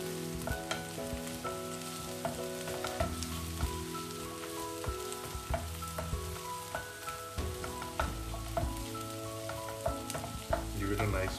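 Two whole dried Kashmiri red chilies frying in oil with pinkened onions for dhaba-style dal fry, giving a crackling sizzle with scattered pops and stirring clinks, up close and moderately loud, with no voices.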